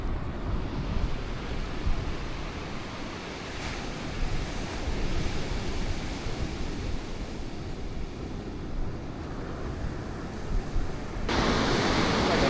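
Big ocean waves roll onto a quiet Outer Banks beach with a deep, continuous roar of surf, steady throughout, and wind buffets the microphone louder near the end.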